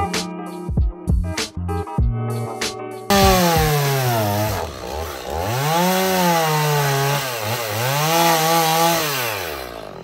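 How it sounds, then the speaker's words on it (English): A chainsaw with a dull chain roars loud and close while cutting through old deck wood during demolition, engine pitch sagging and rising under load after a few short knocks at the start. "Looks like my saw's a little needs sharpening."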